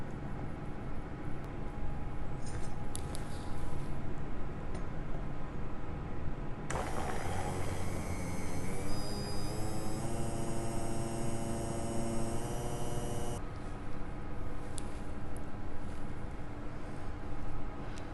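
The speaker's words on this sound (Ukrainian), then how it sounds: "Перемішуємо та перебиваємо блендером до гладкості" A blender whirs steadily for several seconds in the middle, blending pistachio paste into a smooth cream, its motor tone rising slightly, with quieter kitchen noise before and after.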